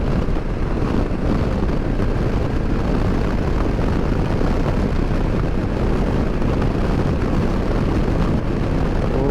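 A Royal Enfield Classic 650 motorcycle runs on a UK road, a dense, steady engine drone mixed with heavy wind rush, loud and continuous throughout with no voices.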